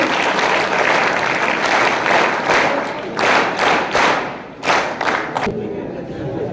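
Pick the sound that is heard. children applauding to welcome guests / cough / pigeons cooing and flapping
children applauding to welcome guests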